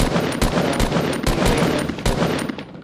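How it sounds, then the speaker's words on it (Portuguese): Rapid automatic gunfire in the battle royale game Fortnite, a dense stream of loud shots with sharp bursts punctuating it throughout, with no talk over it. "Dei 70 tiros no cara, o cara não cai, velho."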